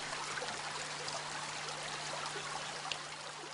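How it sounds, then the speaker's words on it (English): A mountain stream flows with a faint, steady rushing trickle, continuous and distant-sounding, with a low constant hum beneath and no voices. "Swarga is one such stream."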